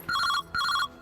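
A telephone rings indoors during a household comedy scene: two loud electronic trilling bursts, each about a third of a second long, separated by a short gap, with no talking over them.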